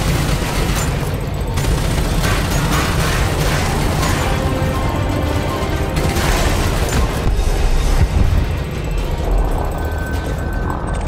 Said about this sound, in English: You can just take out the skimmers quickly with your multi-cannons.